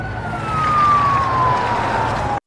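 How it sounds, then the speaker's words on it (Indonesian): A police siren wails steadily with a slowly falling pitch over traffic rumble, loud and close, then cuts off abruptly. "suara sirene polisi mendekat membuat mereka melarikan diri"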